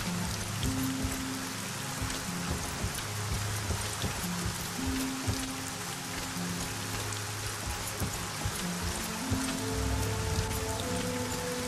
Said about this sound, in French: S'il continue à pleuvoir ainsi, Blackwater va bientôt devenir un port de commerce.